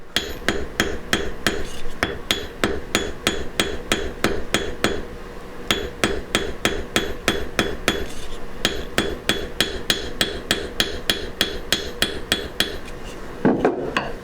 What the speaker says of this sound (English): then I can flip it on over and planish it out with the flat peen.